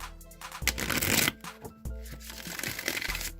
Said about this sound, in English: I'm going to shuffle the Rider-Waite deck